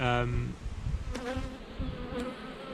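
Honeybees buzz steadily during a hive inspection of a double-brood colony, a close, continuous drone with brief louder passes, and no talk.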